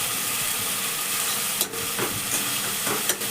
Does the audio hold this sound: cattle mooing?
no